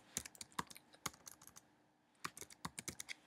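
Typing a word on a computer keyboard: two quick bursts of close, crisp key clicks, a rapid run of strokes, a brief pause, then another short flurry.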